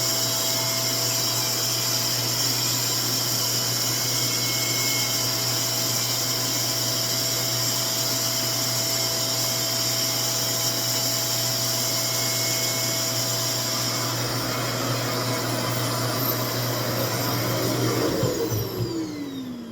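A RevAir hair dryer runs continuously while drying textured, coily 4C hair, a loud close steady whooshing drone with a constant motor whine, shifting and winding down at the very end.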